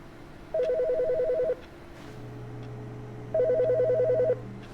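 A telephone rings in two bursts of rapid warbling trill, each lasting about a second with a pause between, clear and close over a quiet room hum.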